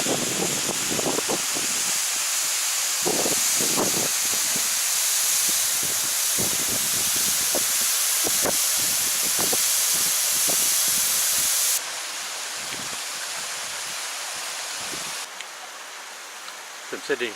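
Tupapakurua Falls, a waterfall amid lush vegetation, a loud, constant broadband rush of falling water that carries on throughout, with occasional talk and handling noises beneath it.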